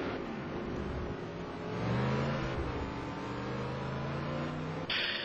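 Vinari's Corvette race car in the ETC Black Cup at the Nürburgring, running sluggishly out of the corners: a steady, close engine roar whose pitch climbs around the two-second mark, then shifts abruptly near the end.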